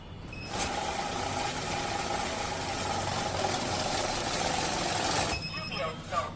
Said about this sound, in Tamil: இது டோட்டல் அமௌண்ட்டை கவுண்ட் பண்ணக்கூடிய ஒரு லேட்டஸ்டான ஒரு smart mix note count machine தான் பார்க்க போகிறோம்